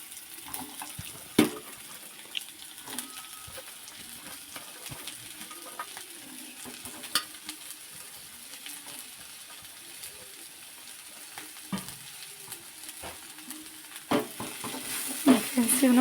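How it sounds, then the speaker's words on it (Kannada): Raw corn kernels go into a hot pan and are stirred, giving a low sizzle with scattered scraping and clinking of the spoon, a few sharper knocks, and louder stirring near the end. "ಹಸಿ ಗೋವಿನ ಜೋಳನ ಹಾಕೊಂಡ್ಬಿಡೋಣ."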